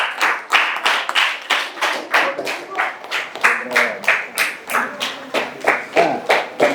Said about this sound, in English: Can we have a clapping, guys?